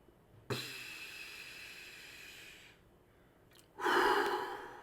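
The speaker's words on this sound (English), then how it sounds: "1, breathe. Let's do it again." Deep breathing, a long audible inhale followed after a pause by a louder, forceful exhale, close and alone.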